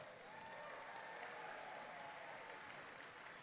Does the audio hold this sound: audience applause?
yes